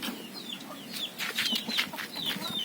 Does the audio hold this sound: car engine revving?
no